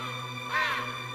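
A crow caws once at night, a single harsh call rising briefly over a steady low hum, fairly faint and alone with no talk.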